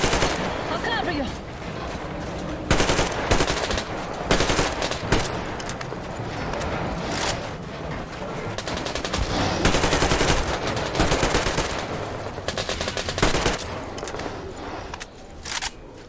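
Gunfire in the video game Metro Exodus: dense bursts of rapid automatic shots alternating with single loud cracks, close and loud, in clustered volleys with brief gaps throughout.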